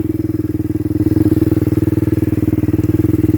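A small mini bike engine chugs close by with an even, throbbing beat that swells slightly partway through, running on without talk.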